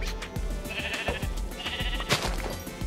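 Sheep bleating in the video game Minecraft, a few wavering bleats standing out over a soft game background, moderately close and not loud.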